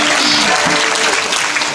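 A crowd gives sustained, loud applause at a kirtan event held for a Chhatrapati Sambhaji Maharaj birth anniversary, the clapping dense and continuous throughout.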